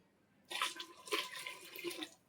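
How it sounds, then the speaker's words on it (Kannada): About two glasses of water are poured into a cooking pot holding ground masala for fish sambar, a soft splashing gush lasting under two seconds, fairly faint and close. "ಇವಾಗ ಇದಕ್ಕೆ ನಾವು ಎರಡು ಗ್ಲಾಸ್ ಅಷ್ಟು ನೀರ್ ಹಾಕೋಬೇಕು"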